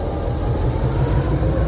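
Passenger train rolling along a Yugoslavian railway line, a steady low rumble and rattle of the carriages continuing evenly throughout, close and moderately loud with no talk.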